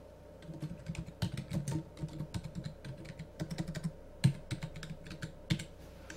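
Close, soft clicking of keys on a computer keyboard as a post title is typed, irregular bursts of taps with brief pauses over a quiet room hum.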